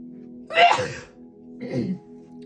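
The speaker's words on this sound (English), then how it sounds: "that was a big sneeze." A single loud, sharp sneeze bursts out, followed a moment later by a softer exhale or sniff over a steady low background hum.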